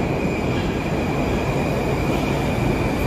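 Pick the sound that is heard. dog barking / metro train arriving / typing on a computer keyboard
metro train arriving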